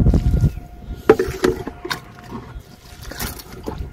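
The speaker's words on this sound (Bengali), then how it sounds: "গাছগুলোতে 3 দিন জল দেওয়া হয়নি, তো এখন এগুলোতে একটু জল দিয়ে দিচ্ছি" Water poured onto potted plants on a rooftop, with splashing and trickling bursts, soft knocks and scrapes of pots, fairly close and uneven.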